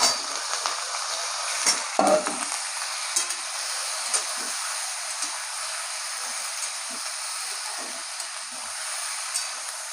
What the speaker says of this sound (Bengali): এখন এই ডাঁটা আলুগুলো সব ভেজে নেবো।